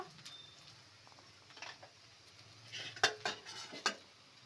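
Okra stir-fried in a pan with coriander and spices, a faint sizzle under a few soft scrapes and clinks of a spoon that grow louder toward the end.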